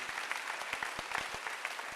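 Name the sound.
church congregation clapping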